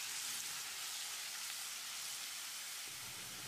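Chopped onions and garlic sauté in a pan for a tomato garlic chutney, giving a steady, even sizzle of frying that holds without a break and has no voices over it.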